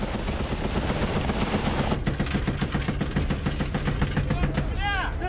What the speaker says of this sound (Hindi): M2 browning high machine gun से फायरिंग